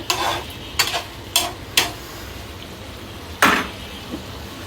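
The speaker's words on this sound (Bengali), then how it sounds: "সো এই যে দিশার ফেভারের টমেটো রান্না করতেছি" Stirring in a pot while tomatoes cook for a soupy curry at home: four sharp scrapes close together at the start, another louder scrape after a pause, with a faint low sizzle underneath.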